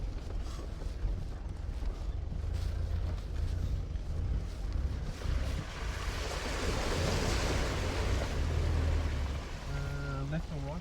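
A 4WD pushes straight through a water crossing on a coastal track in Lincoln National Park, a sustained rushing, sloshing wash of water with a low engine rumble underneath that holds steady for the whole stretch before easing near the end.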